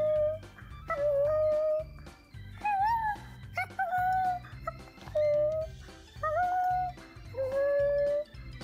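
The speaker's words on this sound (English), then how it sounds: "Caution, this dog is in pissed off mode, and touching it is not recommended." An angry dog makes a repeated series of vocal sounds in about eight separate bursts, each pitched and drawn out, close and fairly loud.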